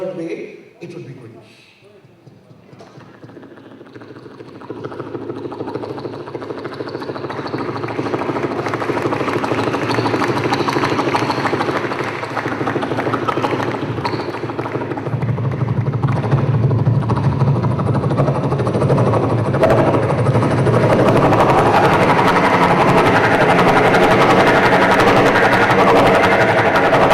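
A stage performer's voice imitates a helicopter, starting faint and building into a loud, continuous whirring engine drone with a fast rotor-like flutter that holds steady for over twenty seconds.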